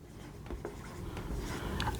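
A marker or chalk scratches across a classroom board in a few short, quiet strokes with small rhythmic taps, set against low room noise and no speech.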